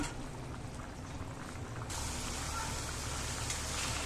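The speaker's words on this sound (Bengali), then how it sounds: "এখন পানি দিয়ে দিচ্ছি মাছটাকে ভালো করে সিদ্ধ করে নিতে হবে" Water poured into a pan of baim fish cooking with tomatoes, a steady broadband rush of liquid that jumps louder midway and continues as a bubbling boil, with no talk.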